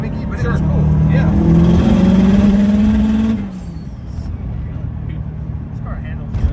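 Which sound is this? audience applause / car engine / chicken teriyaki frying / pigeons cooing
car engine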